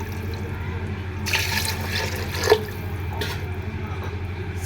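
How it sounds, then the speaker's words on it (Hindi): Water poured from a glass into a cooking pot for mutton stock, a steady splashing pour with a few brief surges and no talk. "अब हम पानी ऐड करेंगे"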